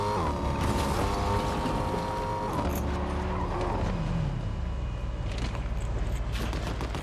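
A car drives in Fortnite, with a steady mechanical engine drone and shifting tones, creaks and rattles over a constant rumble, loud throughout with no talk.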